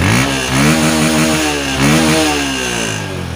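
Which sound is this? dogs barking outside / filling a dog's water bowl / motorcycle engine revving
motorcycle engine revving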